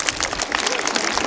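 An audience at a Shivaji Jayanti quiz bursts into loud applause, a dense burst of clapping from a crowd, brief and close.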